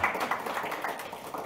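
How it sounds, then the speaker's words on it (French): A forum audience applauds, giving a brief burst of steady, moderately loud clapping. "On peut les applaudir."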